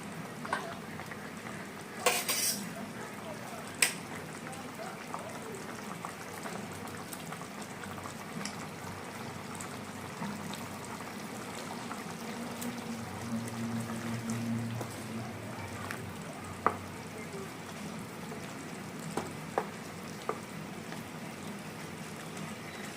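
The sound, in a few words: tilapia fish being added to the pan for the curry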